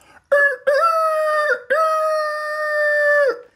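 A rooster crows in a children's storytelling setting about a farm, two loud, close, drawn-out calls with a short break between them and no talk over them.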